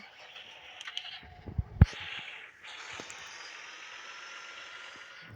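Engine of a seeder machine in Farming Simulator 18, a hissing mechanical drone that cuts out briefly and then resumes at a steady level, with a few knocks near the start.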